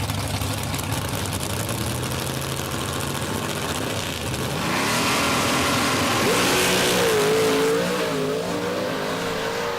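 Big Block Ford drag race cars idle, then launch and accelerate hard down the strip, engines rising from a low rumble to a loud sustained roar with climbing pitch, no talk over it.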